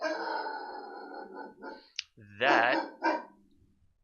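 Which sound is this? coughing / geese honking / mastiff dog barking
mastiff dog barking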